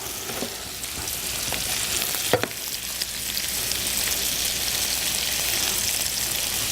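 Shrimp and butternut squash juices sizzle and bubble steadily as they reduce in a pan, a continuous close frying hiss with a couple of sharp crackles and stirring clinks, no talk.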